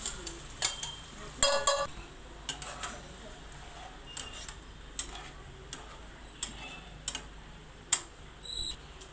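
Sprouted moth beans (matki) being sautéed in a pan, heard as scattered light clicks and taps of a utensil stirring against the cookware, quiet and close with faint background hiss.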